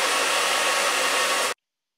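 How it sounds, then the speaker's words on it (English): A noisy hair dryer blows at a steady, loud whoosh with no one speaking, then cuts off abruptly at about one and a half seconds, leaving silence. "this is what the noisy hairdryer sounds like on the standard microphone mode"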